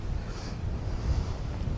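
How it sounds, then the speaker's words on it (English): Strong wind buffets the microphone on Coochiemudlo Island, a steady, loud low rumble with gusty swells throughout and no voices. "It's really windy."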